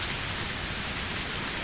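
Heavy rain pours steadily in a dense, loud, continuous hiss with no breaks or voices.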